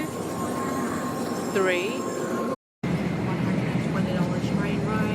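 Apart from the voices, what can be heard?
crowded train ride interior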